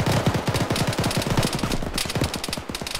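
Sustained automatic gunfire in Arma pounds in fast, evenly spaced shots, loud and close, rolling on without pause across the whole stretch as a teammate is hit.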